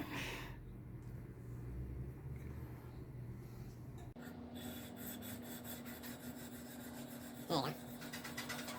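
Steady rough rubbing and rasping of a knife blade across a wet whetstone in a sharpening jig, with a brief scrape near the end and faint voices in the background.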